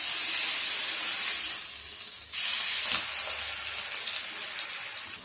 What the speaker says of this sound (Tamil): ஃபிஷ் ஃப்ரை பண்ணிக்கலாம்